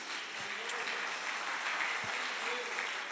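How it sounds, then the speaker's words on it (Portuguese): A church congregation applauds during a service, a steady wash of many hands clapping at moderate distance, fairly soft and even for a few seconds with a couple of faint knocks. "aplauda a Jesus."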